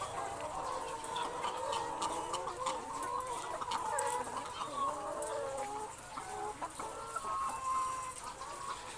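Laying hens on a large egg farm cluck and squawk continuously in a dense, busy chorus, with occasional sharper calls rising above the steady flock noise.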